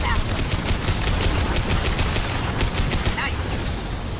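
Rifle gunfire in the Mass Effect 2 video game, dense rapid bursts crackling almost continuously over a combat soundscape with a low rumble, with a short gap midway before the shooting resumes.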